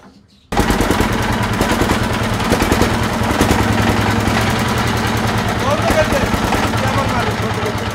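A used 5 kW Mingdong diesel generator starts and runs, its loud, steady chugging engine filling the space after a brief quiet opening, with a rough mechanical clatter throughout.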